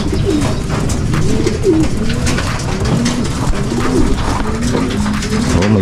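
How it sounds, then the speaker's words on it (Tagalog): Pigeons coo steadily and close by, with low rolling calls overlapping throughout amid rustling, while the birds are being fed. "Papatukan na rin tayo ng iba nating kalapate."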